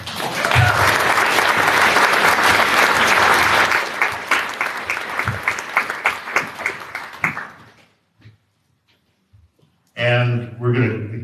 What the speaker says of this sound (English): Now you can have some applause.